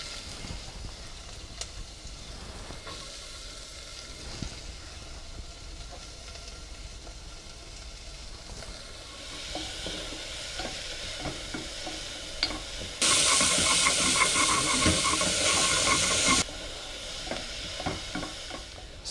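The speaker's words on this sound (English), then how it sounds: "I'm going to add some extra virgin olive oil. And to this I'm going to add my onions." Onions sizzle in extra virgin olive oil in a pan on medium-high heat, a steady crackling hiss that grows louder and brighter partway through, with occasional stirring scrapes and no speech.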